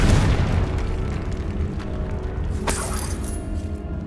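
A Confringo fire spell from the Hogwarts Legacy video game goes off as a loud booming explosion with a bright crackling burst midway, over a continuous rumbling game soundscape.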